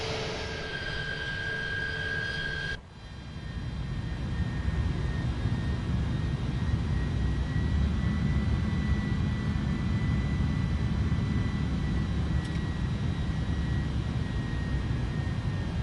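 Steady broadband drone of a small aircraft's engine in Flight Simulator 2024 on PS5, loud and continuous throughout with a brief dip near the start, with no talking.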